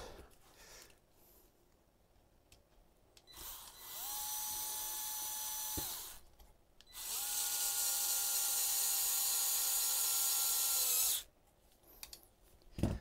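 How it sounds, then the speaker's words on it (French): A high-pitched electric screwdriver whines in two sustained bursts of several seconds each, close and loud, while its slipping bit spins freely during assembly of an SNRC S86 EGT v2 RC model, with quiet handling noises between bursts. "Pas mon tournevis qui tourne plus, c'est l'embout qui tourne plus."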